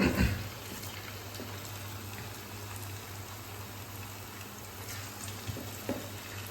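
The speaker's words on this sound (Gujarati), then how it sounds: "આપણે ધીમી ફ્લેમ ઉપર જ એને ફ્રાય કરવાના છે." Potato bhajiya fritters frying in oil on a low flame, a soft, continuous bubbling sizzle with faint crackles, fairly quiet and steady, with no talk.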